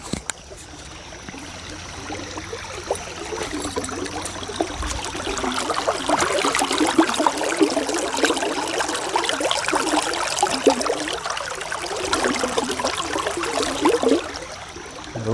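Creek water trickles and babbles steadily over rocks at Kecks Creek crossing, a continuous close-miked wash with no voices.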